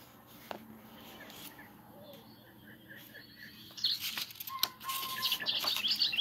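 Recorded bird calls played from a bird sound book: a series of faint, scattered chirps and tweets that build into a brighter, busier chatter of high calls toward the end, heard fairly close against a quiet indoor background.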